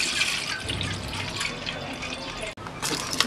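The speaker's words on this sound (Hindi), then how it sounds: "मैंने दूध को कट कर लिया है, भगोने में डालूंगी" Milk pouring into a cooking pot, a steady close liquid stream that breaks off briefly near the end and then resumes, with no talking.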